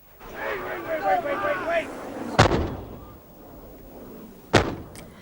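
Two heavy booms from mortars and 25-pounder guns ring out a couple of seconds apart during the British Army's operation in Dhofar, Oman. A voice talks briefly before the first blast.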